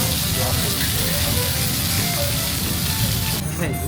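Kobe wagyu beef searing in a hot pan, giving a steady, close, hissing sizzle that runs throughout, with a brief clatter near the end.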